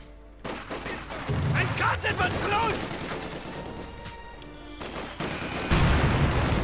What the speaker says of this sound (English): That's coming under mortar fire.